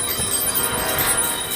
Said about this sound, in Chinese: 这铃声好刺耳